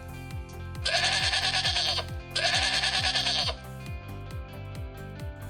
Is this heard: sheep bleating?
yes